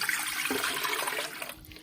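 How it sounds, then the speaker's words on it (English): Water pours into a stand mixer bowl for pizza dough, a steady close splashing rush that tapers off near the end. "I'm gonna add my water."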